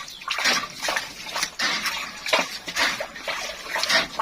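Wet, squelching churning comes from a liquid probiotic mixture being stirred evenly into compost, a close, fairly loud and continuous rhythmic swishing with brief pauses between strokes.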